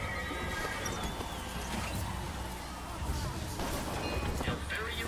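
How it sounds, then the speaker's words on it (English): A mechanical horse whinnies in BioShock Infinite over clip-clopping hooves, with an announcer-style voice talking over a busy, continuous background. "Mechanical, the automatic stallion, the horse of the future"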